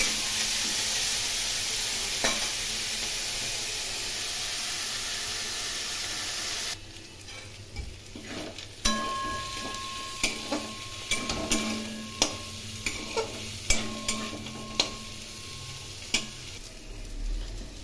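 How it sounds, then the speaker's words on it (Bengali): Potatoes and prawns frying in a pan over a low flame, an even hiss at first, then quieter sizzling punctuated by a series of sharp spatula clinks and stirs. "ভাজা হয়ে গেছে আলু এবং চিংড়ি"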